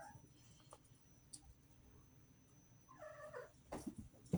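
A house cat gives a faint meow near the end, quiet and brief against a low background hiss, with a few small knocks before it.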